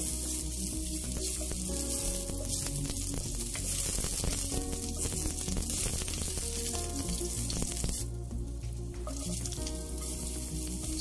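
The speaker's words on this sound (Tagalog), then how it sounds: "Then, igigisa natin yung bawang." Garlic sautéing in hot oil in a pan for a tuna flakes and marrow vegetable stir fry, giving a continuous moderate sizzle with crackles and faint stirring, mixed with background music.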